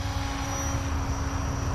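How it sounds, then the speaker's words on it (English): A hovering RC helicopter flown out of GPS mode gives off a steady, close motor whine with sustained tonal hums over a low rotor rumble, constant in level and with no voices. "And then we have a regular flying helicopter."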